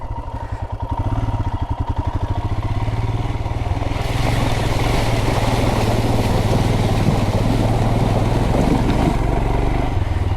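Motorcycle engine revving hard while bogging down in mud on a multi-day off-road ride, a loud continuous roar with a pulsing low throb early that thickens into a dense, strained drone.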